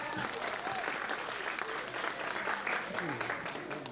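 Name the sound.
audience applause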